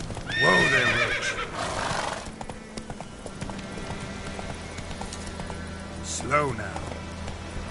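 Roach, a horse in the video game The Witcher 3, whinnies loudly and close at the start, gallops with rhythmic hoofbeats through the middle while a voice speaks briefly, then neighs again near the end.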